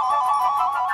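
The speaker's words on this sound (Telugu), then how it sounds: "వినయ్ వినయ్, అప్పుగారు కాల్ చేస్తున్నారు" A phone rings with an incoming call, a brief, steady electronic ringtone tone that sounds clearly and alone with no talking.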